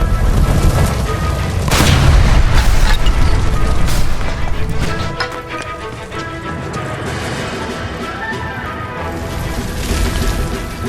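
A shot-out gas line in L.A. Noire erupts into a loud explosion, a deep booming blast followed by crashing debris and a lingering rumble that slowly settles.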